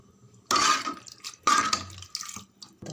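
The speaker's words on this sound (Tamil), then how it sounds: "1/2 டம்ளர் 2 டம்ளர் தண்ணி வைங்க." Water poured from a tumbler into a cooking pot while making a semolina dish, two short splashing pours about a second apart with brief trickles after, close and fairly loud, no talking.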